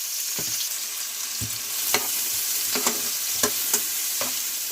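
Fish fries in a pan with a steady, close sizzle, punctuated by intermittent scrapes and taps of a spatula.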